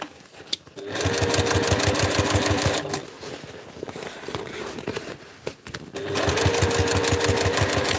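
A sewing machine stitches over a seam on a homemade cosplay backpack in two fast, steady runs of rapid mechanical clatter, separated by a pause filled with quieter handling noise.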